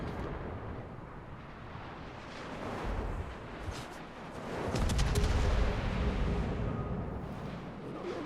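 Naval gun salvo in World of Warships fired on a destroyer by the Gorizia, a deep rumbling boom that swells and lingers over a constant background roar, with no talking.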